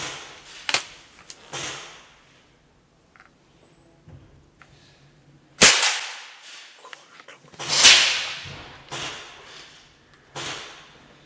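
Feinwerkbau Sport 127 air rifle firing, with two sharp, loud cracks a couple of seconds apart amid fainter clicks and handling knocks from cocking and loading the rifle.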